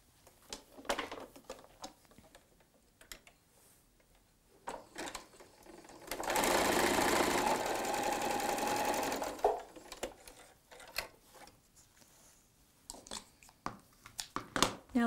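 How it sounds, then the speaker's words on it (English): A sewing machine runs a quarter inch seam through quilt fabric in one steady burst of about three seconds, preceded and followed by soft handling clicks and fabric rustle. "let's go sew a quarter inch seam allowance together"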